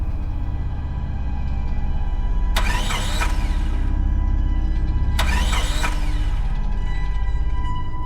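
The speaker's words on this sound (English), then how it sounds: "I turned the key and my heart sank as the engine failed to start" A car engine cranks without catching as the key is turned: two loud, grinding starter bursts of about a second each, separated by a pause, over a steady low mechanical rumble.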